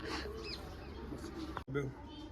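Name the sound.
pigeon cooing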